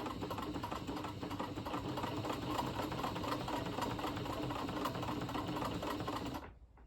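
Janome New Home 702 sewing machine stitching a buttonhole, a steady fast mechanical chatter of the needle running evenly for several seconds before stopping abruptly, heard alone and fairly faint.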